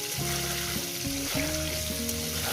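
Potatoes fry in oil in a pan, a steady sizzle under bursts of tonal humming or music that come and go, fairly close and moderately loud, with no clear talk.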